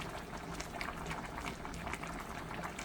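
Broth bubbles at a vigorous rolling boil in an uncovered pot over high heat, a dense, continuous seething close by with no voices.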